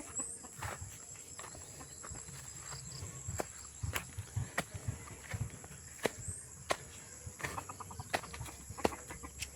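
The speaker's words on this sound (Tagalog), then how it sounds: "So pagkainin na natin yung alaga nating manok" Chickens being fed peck and scratch with scattered sharp taps and rustles, a few soft clucks, and high background insect or electrical whine.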